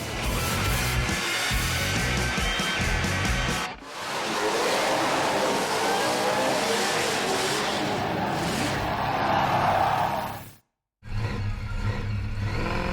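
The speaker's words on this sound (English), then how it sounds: "Summernats Burnout Masters action continuing here at the Perth Motorplex's Burnout King event" A ute doing a burnout at a Summernats Burnout Masters event at Perth Motorplex, its engine screaming at high revs with tyre roar and a roaring crowd-like wash, loud and continuous with brief cuts.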